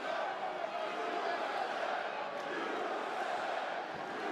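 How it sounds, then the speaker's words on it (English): A Boston crowd at an MMA fight cheers and roars in a steady, distant wash of many voices behind the action, holding at a moderate level throughout. "Boston crowd getting behind the American Jeremy Stephens."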